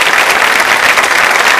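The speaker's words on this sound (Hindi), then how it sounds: "सम्मान में बजाइए तालियां जोरों से आप" Loud, steady applause from an audience at a women's polytechnic anniversary quiz show, a dense wash of clapping filling the whole moment without a break.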